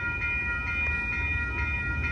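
An Amtrak Coast Starlight passenger train led by two ALC-42 locomotives rolls past at 98th Avenue in Oakland, a steady close rumble of wheels on rails with a continuous high ringing tone over it.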